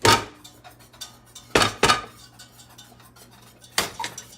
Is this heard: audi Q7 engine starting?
no